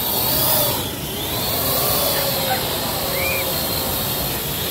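A small toy drone flies close by, making a steady, loud buzzing whir with airy hiss that swells slightly at the start and then holds constant throughout, with no talking.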